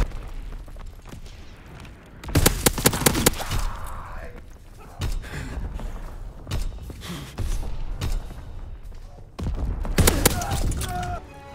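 Mortar rounds burst in Call of Duty WW2 gameplay, landing as several heavy, booming blasts in clusters across the scene, mixed with gunfire and battle noise, while in-game voices call out over the action.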